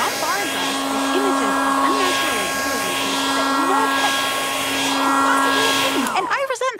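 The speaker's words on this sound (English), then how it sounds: "The blow dryer is an aggressive tool humans use to force animals to conform to their standards." A loud, steady blow dryer whine runs continuously with a constant pitch, and a person's voice keeps going over it until the motor cuts off near the end.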